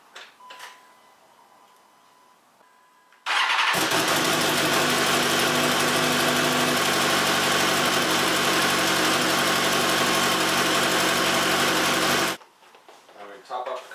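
A 2016 BMW S1000RR motorcycle engine fires up after a few seconds of quiet, runs loud and steady at idle for about nine seconds close to the microphone, then cuts off abruptly.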